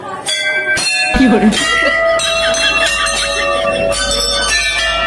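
A metal temple bell struck repeatedly rings out loud and close, its bright overtones sustaining and overlapping, with voices murmuring faintly beneath.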